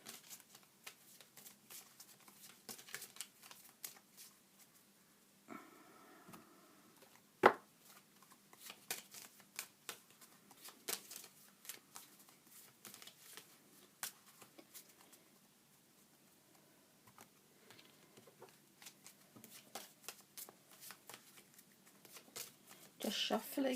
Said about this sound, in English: Just shuffling can also clear a deck.